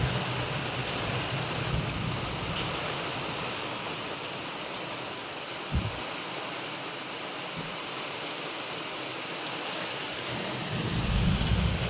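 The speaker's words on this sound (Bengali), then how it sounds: "বৃষ্টি পড়তে আরম্ভ করে দিয়েছে" Steady rain falls in a continuous hiss with low rumbles underneath, and a deeper roll of thunder swells near the end.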